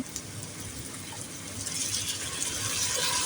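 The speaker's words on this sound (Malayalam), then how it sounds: "നമ്മൾ സോയാ സോസ് ഒഴിക്കുകയാണ്" Soy sauce poured into fried rice in a hot pan gives a steady, close hiss of liquid that swells slightly louder toward the end, with no talking.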